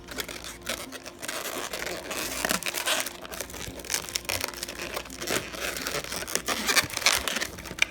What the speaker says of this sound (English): I'm gonna take this notch here and I'm gonna tie in this balloon into this notch